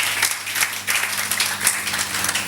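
A church congregation applauds, a burst of many hands clapping at a brisk, uneven rhythm, close and fairly loud, sustained throughout without a voice on top.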